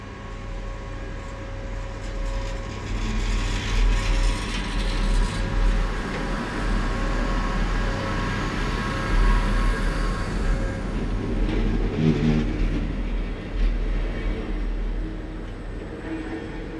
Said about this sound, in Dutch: Het duurt dan ook even voordat de machtige sleeprijtuigen helemaal aan het perron staat